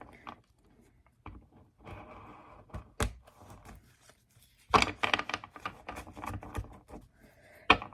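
Tarot cards shuffled by hand in a quiet room, a series of soft riffling and tapping bursts with sharper card slaps and flurries near the end, close and fairly faint.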